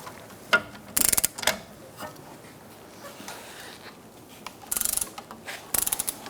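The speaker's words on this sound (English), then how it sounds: "Using a 14mm socket, we're going to remove these two bolts to take the bracket off." A hand ratchet fitted with a 14mm socket clicks in short bursts while loosening Kia Soul rear brake bracket bolts, with several quick runs of close, crisp pawl clicks separated by quiet pauses.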